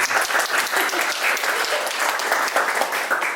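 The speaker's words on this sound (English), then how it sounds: "So, when you see the screen go dark like this, you applaud spontaneously." An audience claps during a magic lantern show at The Wilson in Cheltenham, a lively patter of many hands with distinct individual claps, fairly close and continuous.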